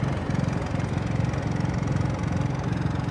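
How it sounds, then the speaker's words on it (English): Onboard generator of a 2023 Winnebago Solis 59PX RV running near its exhaust, a steady low droning engine hum with an even throb, continuous and moderately loud with no talking. "We've got our generator running."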